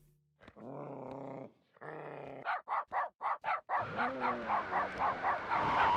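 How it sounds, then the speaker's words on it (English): A dog in the FNAF Help Wanted video game growls in two long low rumbles, then breaks into a rapid series of loud barks followed by a quicker run of yips and snarls, close and clear. "That's the dog."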